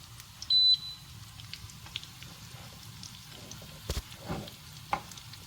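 Dry fruits and dates are stirred in ghee, producing a soft, low sizzle with occasional spoon clinks and scrapes, plus a brief high beep near the start.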